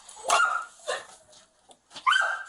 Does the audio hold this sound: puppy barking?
yes